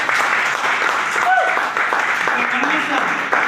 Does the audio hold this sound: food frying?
no